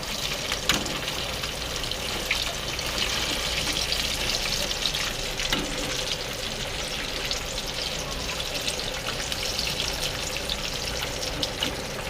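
Lote fish (Bombay duck) chops fry in oil, a dense, steady crackling sizzle that stays close and even the whole way through, with no speech.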